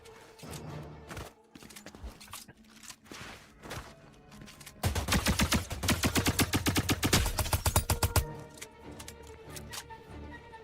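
Rapid automatic fire from a submachine gun in a shooter video game, a loud steady stream of shots lasting about three seconds, preceded by a few scattered single shots and footsteps.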